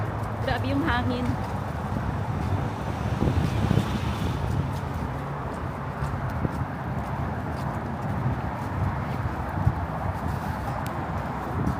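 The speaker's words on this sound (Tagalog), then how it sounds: "Grabe yung hangin." Strong, cold winter wind blows outdoors near a Lowe's store on Long Island ahead of a snowstorm. It is a steady, close buffeting roar across the whole stretch, with a voice talking briefly at the start.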